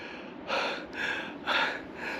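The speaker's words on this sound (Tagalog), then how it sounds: "grabe nang hingal ko" Heavy rhythmic panting from a hiker climbing a mountain in the Balkans of Albania, four close, breathy gasps in a steady rhythm with no talk.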